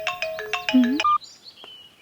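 An incoming call sets off a mobile phone ringtone: a quick, close, clear electronic melody of several bright notes, then faint background noise.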